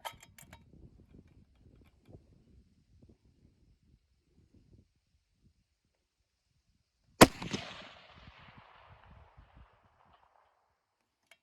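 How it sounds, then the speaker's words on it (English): Savage Elite Precision rifle firing Federal Gold Medal Match 185 Berger ammunition: one sharp, loud shot with a rolling echo that trails away, while a quieter muffled thump or two sounds earlier. "there's three in a row, shooting factory match grade ammunition."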